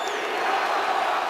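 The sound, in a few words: Seattle stadium crowd chanting Seahawks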